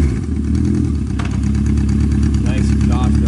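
A 1981 Yamaha XS1100 Special motorcycle engine fires up and settles into a steady, loud, rumbling idle close by, with a brief rev partway through.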